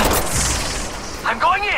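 Game gunfire in Apex Legends Mobile on an iPhone 11, a short burst of sharp shots at moderate loudness with no talk over it.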